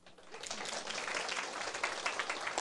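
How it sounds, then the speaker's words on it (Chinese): A roomful of attendees at a lecture class claps for themselves in dense, steady applause that rises quickly and holds at a moderate level, heard from within the crowd. "家己替家己拍手鼓掌"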